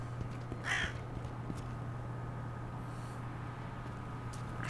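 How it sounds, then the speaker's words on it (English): In the video game Infra, crows caw outdoors, a couple of distinct calls standing out over a low steady ambient hum, with no talking. "Birds."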